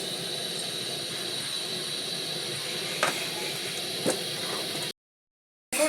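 A gas stove burner roars with a steady broadband hiss while oil heats in a pan for frying fish, loud and continuous with a couple of faint clicks, then cutting out briefly near the end.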